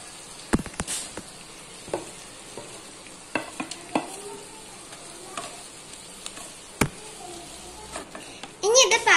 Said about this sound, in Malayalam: ഇനി ഇതിലേക്ക് നമുക്ക് അരിഞ്ഞു വെച്ച കോവയ്ക്ക് ചേർത്ത് കൊടുക്കാം